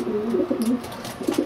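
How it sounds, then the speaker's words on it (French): A racing pigeon in a Belgian loft in Taintignies gives a short, close, low cooing call, loud and clear with no voices. "Et ça, c'est un pigeon de quelle origine?"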